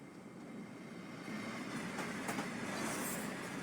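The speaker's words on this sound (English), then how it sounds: "let's go and catch up to our train" Train running on rails in Train Simulator 2021 on the Gilroy to Newhall Yard route, a steady rolling rumble that grows slightly louder and brighter partway through, heard alone without talk.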